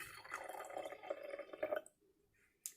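Water poured into a container for a classroom demonstration of a solvent: a short trickling, splashing fill that stops abruptly, followed by near silence and a brief clink.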